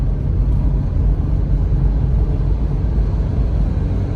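Ford Explorer bought at auto auction, driving with a loud, steady low engine and road rumble filling the cabin, continuous and close throughout.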